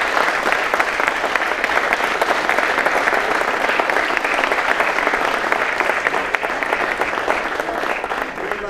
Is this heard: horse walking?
no